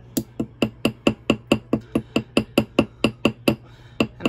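Cross peen hammer striking a rivet, about nineteen sharp metallic taps in a quick, even rhythm, close and fairly loud with no talking.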